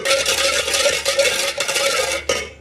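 Black sugar and water stirred and simmering into syrup in a pot for boondi laddu, a continuous broadband scraping and bubbling texture that runs steadily throughout, close and fairly loud, with no talk.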